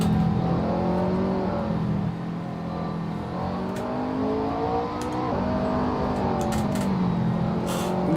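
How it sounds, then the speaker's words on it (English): A safety car in a racing sim rushing into the pits, its engine a steady close whining drone with gently shifting pitch as it accelerates, continuous and alone without talk. "safety car is coming in, so you can see him rush into the pits as soon as possible"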